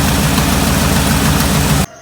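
An old Ford wrecker truck's engine runs steadily at idle with a bad exhaust leak, giving a loud, continuous low rumble and rough hiss that cuts off abruptly near the end.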